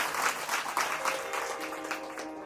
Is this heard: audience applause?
yes